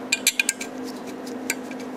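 A bolt fitted into a welded part of a homemade four-cylinder Briggs engine: a few quick faint metallic clinks and taps close by over a low steady hum, with quiet stretches between.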